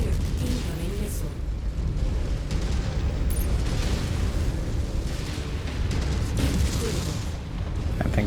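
A missile explosion in the MechWarrior 5 video game: a dense, sustained, loud roar of blast and rumble filling the whole stretch, with no clear gaps.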